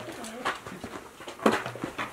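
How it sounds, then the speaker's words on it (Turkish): Racing pigeons coo in short soft bursts, close by, several low throaty calls spread across a couple of seconds with faint background noise. "Biz bu kuşları içeri katalım istersen."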